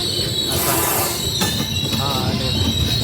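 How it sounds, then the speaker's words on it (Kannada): The Murudeshwar–Kacheguda passenger train passes close by with a continuous grinding rumble and a high steady wheel squeal, with faint voices now and then. "ಇದು ಮುರುಡೇಶ್ವರ ಕಾಚಿಗುಡ್ಡ ಟ್ರೈನ್ ಖಾಲಿದೆ"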